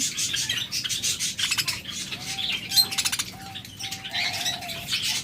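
A flock of caged pet birds, lovebirds, budgerigars, Java sparrows and cockatiels, keeps up steady chirps and squawks with occasional wing flutters and rubbing noises, close by and continuous.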